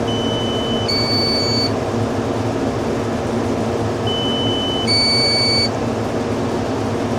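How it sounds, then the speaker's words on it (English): A drone hovering over round baling in a hay field gives two separate bursts of high, steady electronic warning beeps over a constant broad rushing background noise. "So we'll help the drone, at least so it quits beeping."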